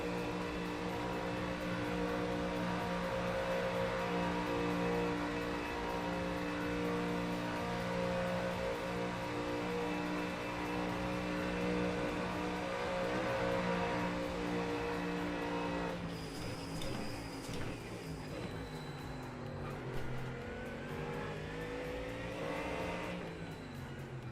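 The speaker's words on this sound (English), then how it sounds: "Got a car on the left." Mustang racing game lap of the Nordschleife with a steady, loud engine drone throughout; around the midpoint another car pulls alongside and passes nearby, adding a shifting whine over the continuous engine roar.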